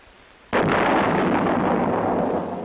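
One heavy field artillery blast, a self-propelled 8-inch howitzer firing, bursts suddenly and loud and rolls into a long rumbling decay.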